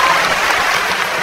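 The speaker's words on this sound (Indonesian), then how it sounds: "Tepuk tangannya kurang semangat." Audience applause in a debate hall, a dense, even patter of clapping at moderate loudness that continues without a break through the short stretch.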